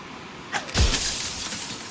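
Glass shatters once in the video game Slay the Princess, a sharp crash with bright scattering shards that ring out briefly over a quiet backdrop.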